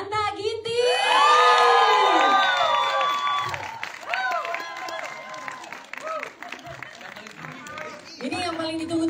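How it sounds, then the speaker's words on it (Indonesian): A crowd at a film press conference breaks into loud cheering, shrill screams and applause as a guest is welcomed, the shouting peaking early then easing while clapping continues under a speaking voice. "Kita undang dengan tepukan yang meriah, Tanta Ginting."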